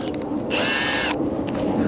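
A power drill whines in one short burst of about half a second while a microwave is scrapped, loud and near, with quieter shop noise before and after.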